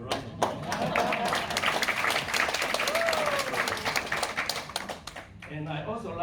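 An audience at an anniversary and changeover dinner in Queensland Parliament House claps steadily for several seconds, fairly close and loud, then fades out as a voice begins to speak.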